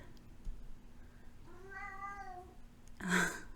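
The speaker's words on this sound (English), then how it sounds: "That's the cat." A cat meows twice nearby: a drawn-out, tonal meow, then a brief pause and a shorter, louder, sharper meow.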